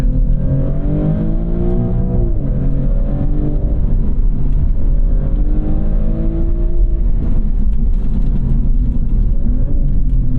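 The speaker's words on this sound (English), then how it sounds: "quite slow on that downshift" Engine of a 2024 Maserati GranTurismo Trofeo PrimaSerie during a downshift: a loud, steady interior drone with a rev swell and dip partway through, with no talk over it.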